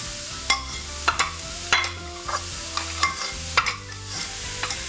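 Mushrooms sizzling in shimmering hot oil in a pan, with a soft continuous fry under several sharp spoon-scrape stirs spaced roughly every half second to second, close and clear.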